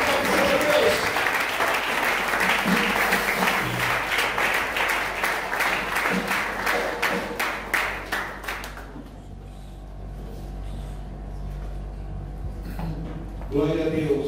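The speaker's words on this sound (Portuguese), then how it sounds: "Vamos receber o apóstolo Gelson Baker com uma salva de palmas" A church congregation in Angola applauds to welcome an apostle, with loud sustained clapping and cheering under music that fades out midway, leaving quiet room tone.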